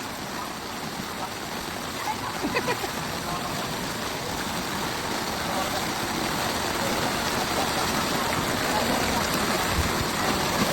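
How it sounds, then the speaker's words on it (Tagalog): Heavy rain pours steadily in a flooded street, a dense continuous roaring hiss of water that stays loud throughout, with faint voices briefly audible early on. "Tuloy-tuloy pa rin yung pagbuhos ng ulan."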